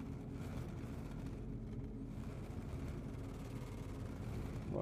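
Steady low engine drone from the C8 spaceship in Star Citizen, a continuous hum that holds level throughout and swells slightly at the end, with no talk.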